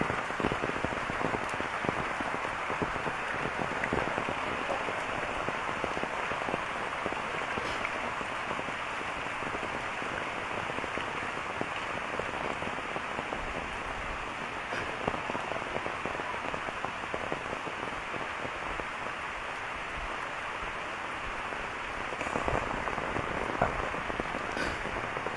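Steady rain pours down around a rural home with betel nut trees, a dense continuous patter on surfaces that holds evenly throughout with a few slightly louder drops.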